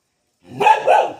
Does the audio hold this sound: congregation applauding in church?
no